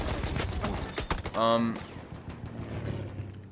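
Gunfire from a slow-firing gun in Battlefield 1, a few sharp reports with echoing tails over busy game noise, loud and close, one bright burst standing out mid-way.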